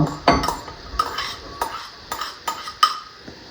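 Spoon tossing apple and pomegranate into a sweet potato salad, a series of distinct scraping clinks against a bowl at an irregular rhythm, close and fairly loud, with no speech.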